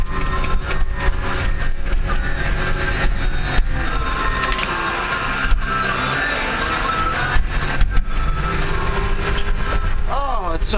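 A GPS dozer engine runs in the morning, giving a loud, close, steady mechanical roar with a continuous droning rumble and rattling throughout.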